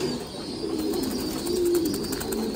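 Fantail pigeons kept as ornamental birds give low, steady throaty coos near the listener, continuous and fairly loud with no one talking.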